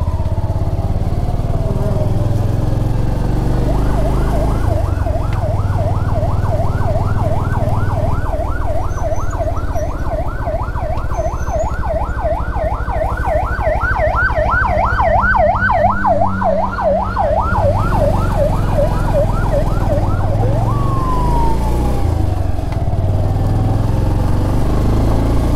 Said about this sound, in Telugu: ఎవరికి ఏ ఎమర్జెన్సీ ఏమో తెలియలే, అంబులెన్స్ వెళ్తూ ఉంది